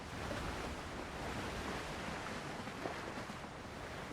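Water washing steadily around a very small sailing boat in the game Windrose, a continuous broad hiss of surf and wind with no distinct breaks.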